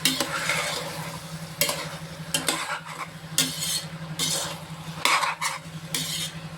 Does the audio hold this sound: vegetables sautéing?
yes